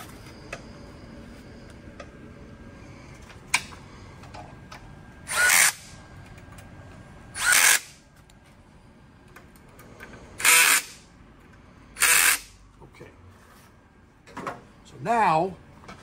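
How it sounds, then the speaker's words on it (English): A power drill tightens fender mounting screws on a Harley-Davidson Low Rider ST in five short whirring bursts spread across the stretch, each a second or so long, with quiet handling noises and a brief voice between them. "I'm going to tighten these four screws"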